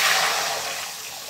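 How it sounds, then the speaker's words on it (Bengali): Water poured into a pan of hot oil for an eggplant curry makes a loud rushing splash that fades slightly over a second, with no talk. "আমি দিয়ে দেবো পানি।"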